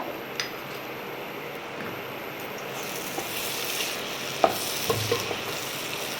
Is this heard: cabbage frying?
yes